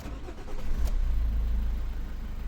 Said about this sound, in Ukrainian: без проблем машинка завелась.